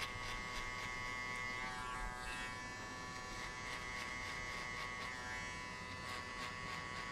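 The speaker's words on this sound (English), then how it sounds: "we're gonna shave everything below the guideline using the clipper" Steady electric hair clipper buzzing close up during a taper fade haircut, continuous and even, with faint shifts in tone as it moves through hair; no voices.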